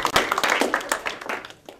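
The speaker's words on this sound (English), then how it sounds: "I think we should give them a round of applause." Short burst of audience applause at a school Science Week event, a scattered patter of hand claps that thins out toward the end.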